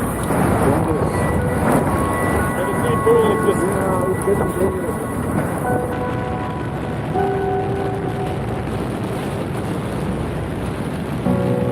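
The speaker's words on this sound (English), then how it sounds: "impossible to ride in this wind, just pushing her away" Strong wind buffets a motorcycle on the open road, a steady loud roar of air rushing past the rider that lasts throughout, with faint tonal whines and a voice talking now and then beneath it.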